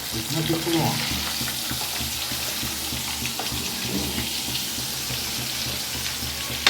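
Fish sizzles steadily while frying in a pan for a Sunday fish curry at home, a continuous crackling hiss with occasional stirring, no voices over it.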